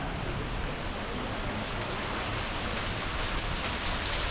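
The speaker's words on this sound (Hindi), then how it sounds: "देखिए इतनी जोर से बारिश गिरती है" Heavy rain pours down steadily during a storm in Pali, Rajasthan, a dense, even hiss of drops beating on surfaces with no pauses and no voices.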